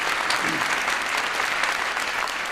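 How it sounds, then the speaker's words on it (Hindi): At a Hindi poetry recital, an audience breaks into sustained, dense applause that fills the whole stretch evenly at a steady level, with faint voices underneath. "एक बार ताली बजा दीजिए"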